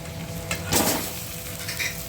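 Pasta stirred into a pan of fried onion, green chilli and carrot gives a soft, low sizzle, with a brief clatter of a utensil against the pan midway.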